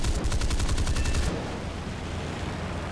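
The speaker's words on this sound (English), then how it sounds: "Four 20mm cannons at 300 convergence are extremely lethal at close range." Four 20mm aircraft cannons set at 300 convergence fire in a fighter-plane combat video game: a loud, rapid, hammering burst lasting about a second, then it cuts off into a low background rumble.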